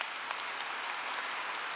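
Steady, faint applause from a large audience at a high school graduation ceremony in a spacious venue, an even wash of clapping with no voices.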